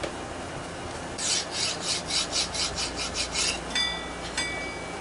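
A file rasps a burr off a bicycle sprocket in about nine quick, even back-and-forth strokes close by, followed by two brief metallic scrapes.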